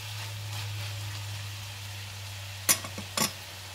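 Vegetables frying in a pan for pasta, a soft steady sizzle under a constant low hum, broken near the end by two sharp scraping stirs of a utensil.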